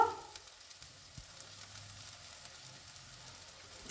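A spice paste of ginger, green chilli and other ground spices with salt fries in a pan for a prawn masala curry, a faint, even crackling sizzle close by with a soft knock early on.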